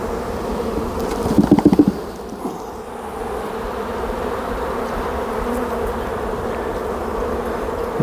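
Honeybees buzz around an opened beehive being inspected for queen cells, a dense, steady close drone with a louder burst of nearby wingbeats early on, and no talk.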